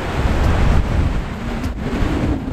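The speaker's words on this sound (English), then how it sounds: "Okay, here we are at the waterfall." A waterfall in Iceland gives a steady, loud, broadband roar, mixed with strong wind buffeting the microphone, and no voices are heard.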